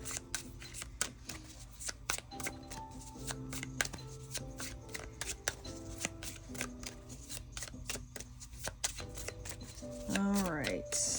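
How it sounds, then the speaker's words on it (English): Tarot cards shuffled in a rapid stream of crisp riffling clicks and slaps, close and continuous, with a soft voice talking over them throughout. "Let me just pull some cards for final messages for the collective"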